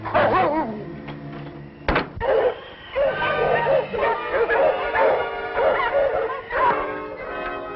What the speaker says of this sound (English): You hear those dogs? That's Monk's sled.